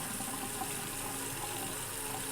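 Tap water runs steadily at a sink while duduk reeds, a cane reed made from a water plant, are rinsed and scrubbed with soap; a continuous, fairly quiet gushing stream with no talk.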